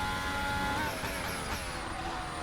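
An F1 car braking into a chicane at the Turkish Grand Prix in a racing game: a loud, continuous engine roar with a high whine stepping down through downshifts as it slows.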